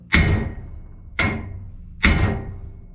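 Three heavy metallic thuds at roughly one-second intervals as a big metal pole and hammer strike the front floor of a 1971 Volkswagen T2 Bay Window bus, each loud close blow ringing briefly before fading.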